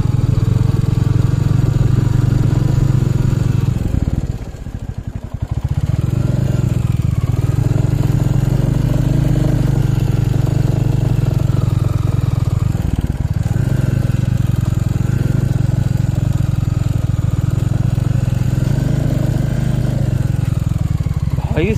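A motorcycle climbs a hill road in first gear on the way from New Jalpaiguri toward Kurseong and Ghoom near Darjeeling. The engine drones loud and steady throughout with a brief dip partway, mixed with wind rush close to the rider.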